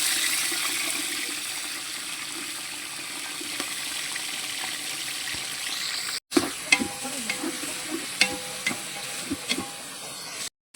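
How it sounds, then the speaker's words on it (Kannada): Steady, loud sizzling of 600 grams of onions frying in oil with cinnamon and cloves for a fish biryani, with occasional stirring scrapes and clicks near the end. "ಚೆನ್ನಾಗಿ ರೋಸ್ಟ್ ಮಾಡ್ಕೊಳ್ಳೋಣ."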